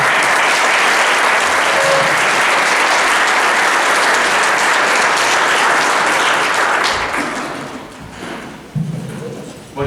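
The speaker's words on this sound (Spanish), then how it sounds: "Les recibimos con un aplauso." A university audience applauds to welcome guests at a tribute event, dense loud clapping sustained for several seconds before thinning and dying away, with a few faint voices near the end.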